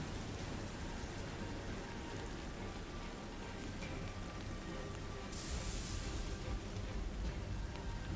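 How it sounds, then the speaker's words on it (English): Steady wind and rain fill a tabletop fantasy game session as an ambient sound effect, a constant wash of rainfall with a brief stronger gust of hiss near the end and no voices. "You're going to have to push through the wind and the rain."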